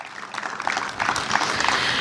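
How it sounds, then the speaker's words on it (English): Brief round of applause from an audience at a high school ribbon-cutting ceremony, honoring a construction contractor's crew, rising to a steady patter of many hands. "If you could give them a round of applause."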